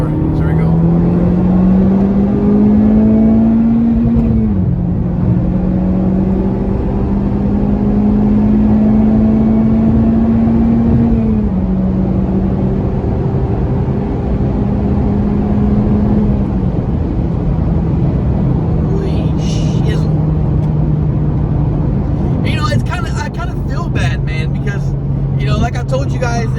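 A Honda Civic Type R FK8 engine held in third gear for a pull, a loud steady drone that climbs in pitch, drops at each shift and climbs again, continuous throughout with a clicking sound late on.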